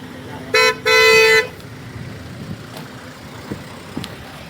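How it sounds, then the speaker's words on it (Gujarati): A company car pulls up and honks twice, a short blast then a longer one, fairly close, over faint background voices and outdoor ambience. "ચાલો ગાડી આવી ગઈ છે, આમાં જવાનું છે."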